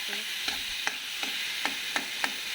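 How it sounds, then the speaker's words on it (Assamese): Large-cut vegetables fry in a pan on a gas flame, giving a constant sizzle with about six sharp scraping stirs spaced at regular intervals, heard close with no voices. "ফ্ৰাই কৰিয়ে সিজিব দিছোঁ।"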